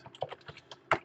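Quick burst of keystrokes on a computer keyboard as a password is typed, about seven close, distinct clicks in an uneven rhythm ending on a louder press like an enter key.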